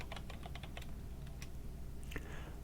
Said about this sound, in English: and I type in perfected